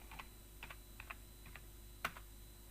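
A command is typed on a computer keyboard: a sparse run of light, close key clicks ending in one sharper keystroke, quiet and without voices.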